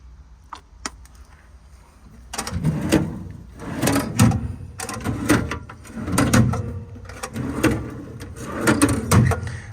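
American Eagle tool drawers on a 2012 Ford F550 mechanics crane truck slide open and shut in a run of repeated clunks and rattling metal slides, close and fairly loud, after a few light clicks.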